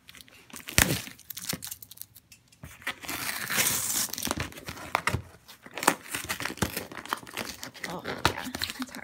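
Loud crinkling and tearing of plastic packaging up close, irregular rustles and crackles that swell in the middle.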